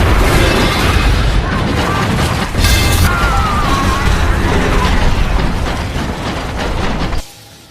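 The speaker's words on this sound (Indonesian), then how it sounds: "Hingga saat bom sudah selesai meledak" A loud, sustained roaring bomb blast with crashing debris and rumbling continues for several seconds, then cuts off abruptly into near silence.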